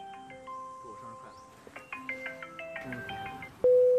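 A phone call is placed and rings out as a melodic electronic ringtone of stepped tones, ending in a loud, steady beep.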